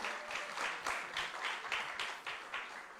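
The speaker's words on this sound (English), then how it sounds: "Please, let's keep clapping for her" Applause fills a chamber at a National Youth Parliament mock sitting. It is a dense, even wash of clapping with a rhythmic pulse, heard fairly faint and at a distance.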